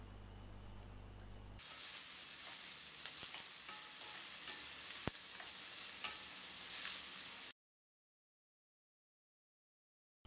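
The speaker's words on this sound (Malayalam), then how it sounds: "പിന്നെ നമ്മൾ അരിഞ്ഞു വെച്ച സവാള, അരിഞ്ഞു വെച്ച ഇഞ്ചി, പിന്നെ 3 പച്ചമുളക്, ഇതെല്ലാം കൂടി ഇട്ടിട്ട് ഒന്ന് വഴറ്റിയെടുക്കണം" Chopped onion, ginger and green chilies sautéing in a pan give off a continuous close sizzle with faint stirring clicks. A short quiet lead-in comes before it, and near the end it cuts off into silence.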